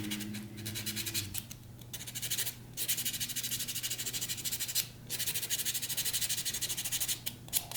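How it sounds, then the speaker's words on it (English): Close, soft scratchy buffing strokes rub across press-on gel nail tips at home, repeating in quick rhythmic bursts with brief pauses, quiet and alone. "I'm just going to buff the nails"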